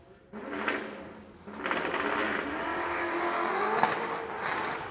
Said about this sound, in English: Oh, you heard the nitrous come in and having a little bit of trouble getting in gear